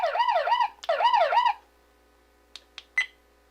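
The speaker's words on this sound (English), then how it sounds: "this is a personal alarm which causes the lights to flash and the siren to sound" Body camera's built-in personal alarm wails in a loud warbling siren for two rising-falling bursts with a short gap, then stops, followed by three brief sharp beeps or clicks.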